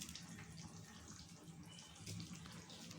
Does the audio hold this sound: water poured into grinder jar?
yes